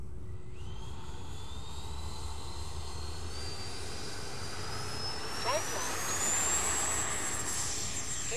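FMS 80mm Integral EDF RC jet taking off from a long runway, its ducted fan whine rising steadily in pitch as it spools up and accelerates, loud and close over a constant background rush.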